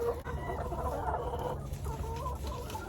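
Hens scratch about in deep litter bedding inside a coop, clucking and murmuring steadily and close by, with soft rustling underneath and no talk.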